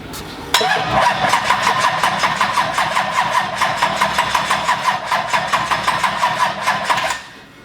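A Duramax diesel engine swapped into a Mustang cranks and catches, then runs with a loud, rhythmic, slightly knocking idle that pulses evenly before cutting off. No one talks.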